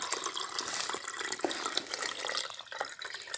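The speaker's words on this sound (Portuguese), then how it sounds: "eu vou colocar nessa minha xícara água morna" Warm water pours from a tap or jug into a cup for bread dough, a continuous close splashing trickle with bubbly gurgles that holds steady and eases slightly near the end, with no voices.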